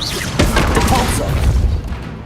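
Depulso force spell cast in the Hogwarts Legacy video game, a loud booming burst with a crashing impact and rumbling tail, layered over other game effects.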